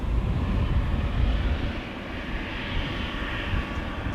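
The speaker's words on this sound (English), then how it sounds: "we have an Embraer 190 KLM flight 1933 to Geneva coming this way" A KLM Embraer 190 jet moves at Amsterdam Schiphol Airport on a windy day, a loud, deep engine roar that swells and then eases slightly, heard alone without voices.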